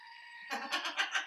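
A goat bleat sound effect played from a novelty goat phone, one short, close wavering bleat following a brief electronic tone.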